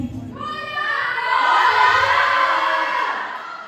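Children in a school audience cheer and shout for contestants at a graduation pageant, a loud, sustained chorus of high voices that swells in the middle and then fades.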